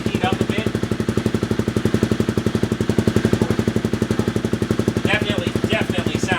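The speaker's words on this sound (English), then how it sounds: "Definitely sounds a whole lot different from the stock exhaust." A Honda CBR250R with a Yoshimura R-77 exhaust sits at a fast, steady idle, a close, even mechanical putter with a brief voice over it near the end.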